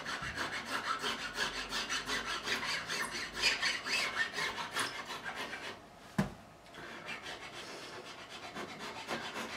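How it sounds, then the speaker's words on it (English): A file skims across the edges of stainless steel frets on a guitar neck to remove burrs, a close, steady run of rapid rasping strokes that pauses briefly near the end, then resumes more quietly. "I will just skim across the edge, remove any burrs we've got there"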